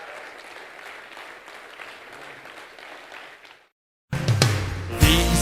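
Church congregation claps hands in praise, a moderate, even patter of clapping that stops, followed by a brief silence and then loud music starting.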